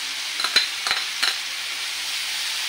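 Hotdog slices frying in a hot pan give a soft, steady sizzle, broken by a few brief scraping stirs near the start, close and moderately loud with no talk.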